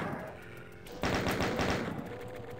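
Chain gun fire in Doom 2 aimed at a tower of chaingunners: a rapid burst of gunshots starts partway through, dense and fairly loud, with game ambience before it.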